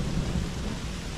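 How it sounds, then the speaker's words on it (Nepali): Thunder rolls low and heavy through a rainstorm in a forest, a short continuous rumble with rain hissing beneath it and no voices. "डेन्जर चट्याङ भन्दैछ"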